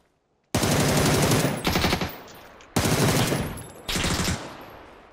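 PUBG gunfire comes in two long, loud bursts of rapid automatic fire close by, each followed by a shorter burst, with a brief gap between them.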